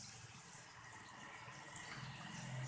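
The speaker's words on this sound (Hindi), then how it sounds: "अब हम इसमें आधा कप पानी डाल देंगे।" Half a cup of water pours steadily into a pan of fried spice masala, a soft continuous splashing and trickling that runs alone for a few seconds.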